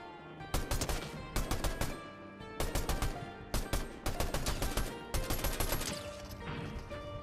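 Rapid bursts of automatic gunfire in Fortnite, loud volleys repeating in clusters with brief pauses between them, no voices.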